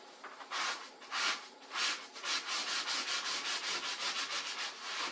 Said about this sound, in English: you're not trying to scrub all of it off, obviously